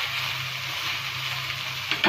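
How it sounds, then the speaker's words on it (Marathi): Vegetable oil sizzles and fries steadily in a pan while cooked cumin rice is roasted, a close, continuous crackle with no talk. "आता छान ह्याला भाजून घेते तेलामध्ये."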